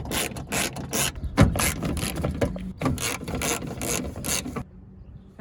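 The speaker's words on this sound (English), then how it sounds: "So let's unbolt these." A ratchet works loose the window regulator bolts inside a 2001–05 Honda Civic door, its loud rapid clicking coming in repeated close bursts before stopping near the end.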